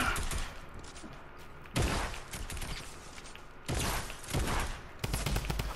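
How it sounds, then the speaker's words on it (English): Drum gun firing repeatedly in a video game, several quick rattling bursts of automatic fire at moderate distance separated by short pauses. "Drum gun spam."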